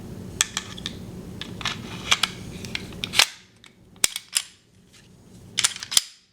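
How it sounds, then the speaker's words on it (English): Metallic clicks and snaps sound close up as a Glock 27 Gen 4 pistol is put back together, with a quick irregular run of small clacks, then a brief pause and a few sharper slide and frame clicks. "And the gun goes back together very quickly."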